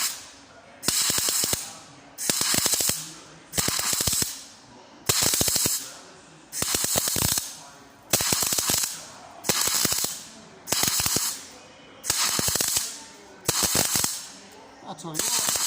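Bursts of MIG welding from a Jasic MIG 200 on metal, about ten evenly spaced crackling, buzzing runs of roughly a second each, separated by short pauses, close and fairly loud with no talk.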